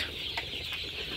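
Sonali chickens on a poultry farm cluck briefly at middle distance over a steady background noise, with a couple of short calls.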